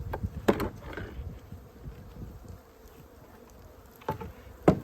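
Honey bees robbing a dead-out hive during a winter check, a faint buzzing drone with a few louder bursts as individual bees fly close past, no talk.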